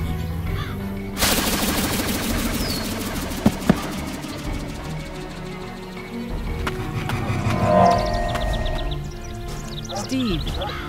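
Vintage toy play with a clattering burst of rapid clip-clop hoof taps, joined by music and a talking voice, plus a couple of sharp knocks partway through.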